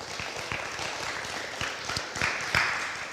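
Audience clapping at a middle school and junior varsity athletic awards ceremony, a thin scattered patter of individual claps from a small crowd, steady and moderately close with no speech over it.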